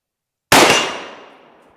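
A 7.62 M80 ball round strikes a round steel target downrange, giving one sharp metallic clang that rings and decays over about a second after a silent start.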